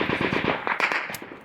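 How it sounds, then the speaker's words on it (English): A firefight between insurgents and a Marine unit a few hundred meters up the road produces a loud, rapid burst of automatic gunfire with several sharp single cracks trailing off, with no speech. "A firefight breaks out between insurgents and another Marine unit a few hundred meters up the road."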